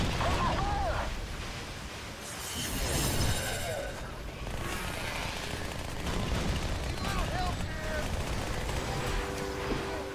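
Dual SMGs fire in Halo: Spartan Assault, a dense, continuous rattle of gunfire with dips and swells, sustained throughout without a break.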